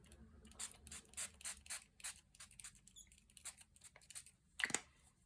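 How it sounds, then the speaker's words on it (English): A spray bottle gives about a dozen quick, rhythmic squirts close by, each a short hissing burst, with one louder spray near the end. "I'm going to spray some water on this"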